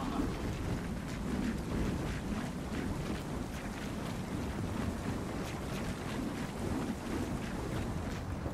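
A video game windstorm in Gears of War 4 roars steadily, with dense rushing gusts and rumbling buffeting that continue unbroken and loud throughout.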